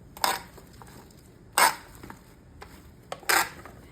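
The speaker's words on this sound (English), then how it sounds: "we're just gonna stir everything up and make sure all the vegetables are coated" Vegetables tossed with olive oil, salt and pepper for roasting, three short scraping, clattering stirs against a dish spaced a second or more apart, fairly close and quiet.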